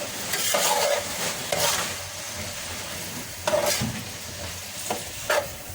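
Onions fry in oil with a constant crackling sizzle while a spoon stirs them, adding several louder scraping swishes across the pan, close and without talk.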